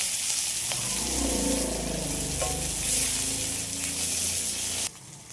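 Chopped onion, garlic and a green chilli frying in a pan give a loud, steady close-up sizzle with stirring, which cuts off abruptly near the end.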